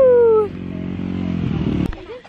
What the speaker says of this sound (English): Ooh, listen to that motorcycle.